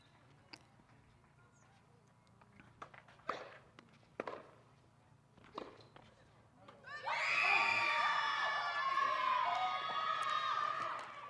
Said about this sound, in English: The crowds are enthusiastic.